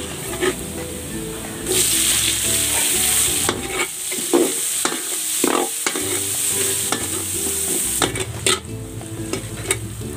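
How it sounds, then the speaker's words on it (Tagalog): Garlic and onion sauté in a hot pan, a steady loud sizzle with bursts of stirring and scraping from a utensil, occasional clinks of metal against the pan, no voices. "Next, magigisa na ako ng bawang at ng sibuyas."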